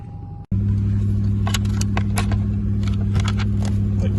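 A Lexus SC 430 engine, with its engine warning light on, cranks and catches at once, settling into a steady, close idle hum, with a few light clicks and rattles on top.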